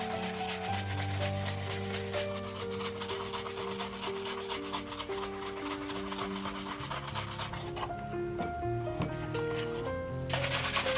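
Shoe cream is brushed into leather shoes with a steady, repeated scrubbing rub, close and continuous, over background music.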